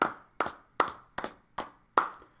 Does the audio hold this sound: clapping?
yes